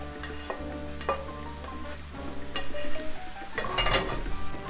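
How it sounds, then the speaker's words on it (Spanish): Steady sizzling of potatoes frying in hot oil for burritos, with stirring and occasional light clinks of a utensil against the pan. "tenemos que ir friendo nuestras patatas fritas"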